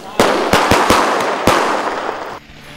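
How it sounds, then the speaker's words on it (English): Festival fireworks and firecrackers bursting in a sharp, uneven series of about six loud cracks over roughly two seconds, each with a short ringing tail, then fading to quiet. "Fireworks and crackers are an expression of creativity and a source of happiness."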